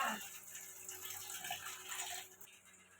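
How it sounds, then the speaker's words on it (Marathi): Chicken is washed under water with a faint, steady splash and trickle of running water, fairly quiet and without speech. "चिकन धुवून घेतलंय"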